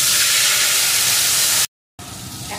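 Spice paste for a black pepper chicken curry hits a hot pan with a loud, broad hissing sizzle, cut off by a moment of silence, then continuing more softly.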